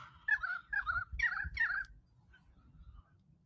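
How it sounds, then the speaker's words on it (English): A currawong calling outdoors at Kings Tableland: four clear fluting phrases in quick succession, then a pause with faint distant calls over low wind rumble. "that's a currawong."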